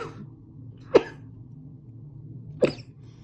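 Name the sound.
cough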